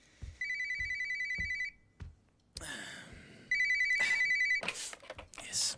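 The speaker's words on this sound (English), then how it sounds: "Oh, I'll get the phone." A telephone bell rings in two bursts of rapid trilling, close and clear, with short pauses and brief voices and movement between and after the rings.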